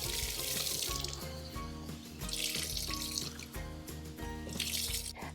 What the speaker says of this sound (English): Then I'm going to rinse and drain these other 2 cans.